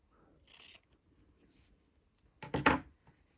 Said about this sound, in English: you're going to take your scissors and you're going to cut off the excess